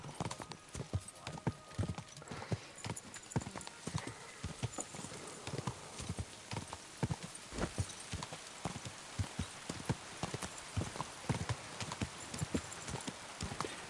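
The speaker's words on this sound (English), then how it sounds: "is just riding your horse" Horse hooves clip-clop in a steady rhythmic gait during a ride in Kingdom Come: Deliverance II, the young weak horse Pebbles carrying its rider, with close, crisp repeated hoofbeats throughout and an occasional faint whinny.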